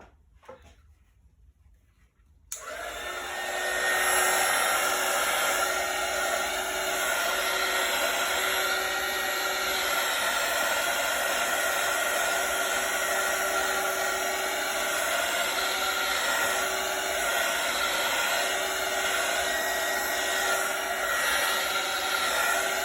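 A heat blower starts after a couple of seconds of near silence, then roars at a constant loud, steady pitch while drying a freshly swiped acrylic pour painting.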